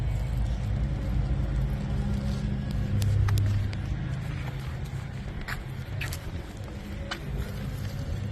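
An early Ford Bronco with a Godzilla engine swap and modified factory manifolds rumbles through Flowmaster exhausts: a deep, steady low burble close by, with gusty wind noise over the microphone.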